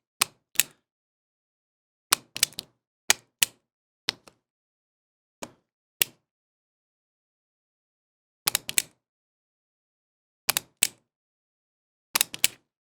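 A single-action revolver's cylinder indexing mechanism, a different type from most, gives sharp, crisp mechanical clicks in small clusters, spaced by silent pauses, close and clear with no talk.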